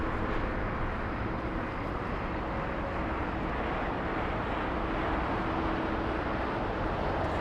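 An ABX Boeing 767 freighter jet on its takeoff roll at LAX, a dense, steady, distant roar with broadband rumble and no clear peaks, heard from outdoors with some wind.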